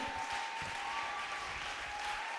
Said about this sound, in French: Give a hand to God.